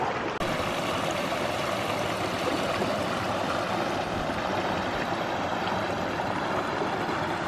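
A river stream flows steadily alongside a riverbank on a summer wild-camping hike, a continuous broadband rush of water that stays even and fairly close throughout, with no talking.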